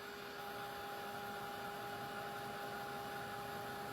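Hair dryer blowing on a painted wooden snowman craft piece, a steady close whirring drone with a constant pitch throughout and no talk.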